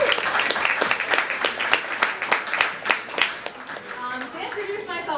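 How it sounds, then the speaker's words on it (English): An indoor audience at a company gathering gives a round of applause, crisp individual claps blending into a lively patter that thins out, with a few voices and chatter near the end. "I would like everyone that works with us to give those people a round of applause"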